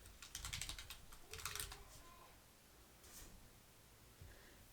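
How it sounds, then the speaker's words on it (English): A NuPhy NuType F1 low-profile keyboard sitting on a MacBook Pro, typed on in quick clustered bursts of faint, close clicky keystrokes, then a pause and a few scattered taps, with no voices. "So let me just do a typing test."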